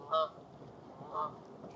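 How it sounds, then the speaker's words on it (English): Canada geese give two brief honks outdoors, the first louder and nearer, the second fainter, over a quiet background. "Dang Canadian geese,"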